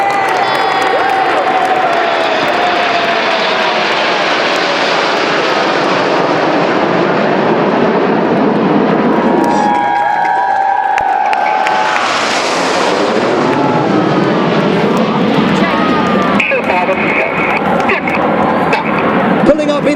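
Red Arrows jet aircraft perform at the Malta Airshow, a continuous loud roaring engine wash that swells and shifts pitch as the formation passes and pulls into a loop, with faint crowd noise beneath.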